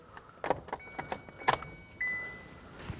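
Keys jingling and clicking into the ignition of a 2011–2016 Kia Optima, followed by a rising electronic chime as the car powers up in accessory mode; close, quiet, no talking.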